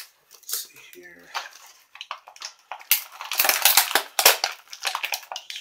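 Plastic packaging of a World Peace Keeper action figure is torn and crinkled open in close, irregular bursts of crackling and crushing, with a brief voice near the start.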